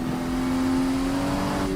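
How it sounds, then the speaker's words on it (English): A Toyota MK4 Supra engine in a racing video game holds a steady, loud hum at constant revs, a sustained drone running unbroken for about two seconds with no voices. "We're driving the MK4 Supra right now."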